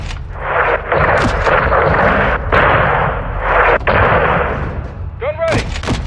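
Heavy artillery fire from the shooter Call of Duty: Modern Warfare II, a string of loud booming blasts with rumbling tails repeating every second or so, ending with a sharp whistling shot.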